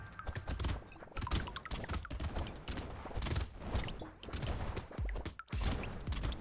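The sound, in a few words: landmine explosion in video game Brotato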